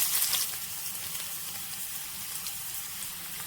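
Garlic hits hot oil in a pan already holding popped mustard seeds and cumin for a Kerala green gram curry, and it gives a steady crackling sizzle that starts bright and settles into a constant hiss, with no talking.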